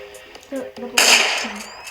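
A single sharp gunshot crack fires in the Roblox game Buckshot, a bright burst that decays over about a second, preceded by talking voices.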